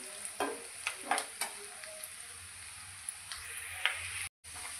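Onion frying in a pan until golden for a Punjabi dum aloo, a soft continuous sizzle with a few light stirring clicks, quiet and close, no talking.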